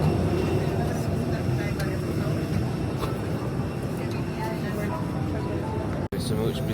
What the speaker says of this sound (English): It's a much busier plane and I'm in the dreaded aisle seat.